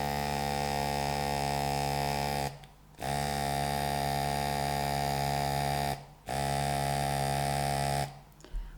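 A LIDL airbrush starter set compressor hums loudly and steadily, with a strong electric buzz that cuts out briefly three times between long running stretches.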